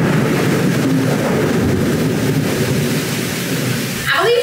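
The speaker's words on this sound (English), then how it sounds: "do y'all hear that? It's a storm." Heavy rain pours steadily through a thunderstorm, with deep rolling thunder rumbling underneath and a brief sharper sound near the end.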